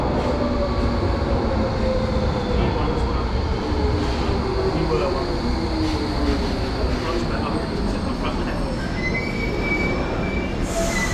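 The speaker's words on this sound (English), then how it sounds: "Now in comes our DLR train, which is going to take us over to Stratford International." A Docklands Light Railway train pulls into a London station, its wheels squealing against the rails over a steady, loud rumble that runs throughout, with faint clicking of the track.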